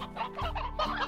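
Stony hens cluck in the video game Slime Rancher, a continuous run of close, busy clucking and chirping set over a steady game backdrop.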